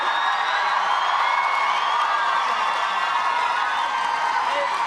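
Dense, steady roar of a large rugby stadium crowd cheering throughout a Women's Six Nations match between Scotland and Ireland, a continuous wash of voices and whoops with no quiet gaps.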